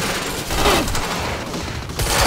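Gunshots ring out in the action game Quantum Break, a dense, continuous barrage of loud cracks and blasts with a heavier burst near the middle and another toward the end, no talk.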